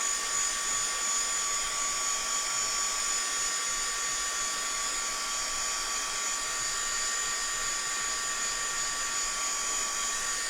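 A hair dryer blows steadily on mixed media art papers laid on MDF, a continuous close, loud whirring hiss with a high whine that holds evenly throughout.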